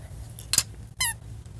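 A couple of short, sharp squeaks, one sliding downward, sound close and fairly loud against a quiet background, with no talk over them.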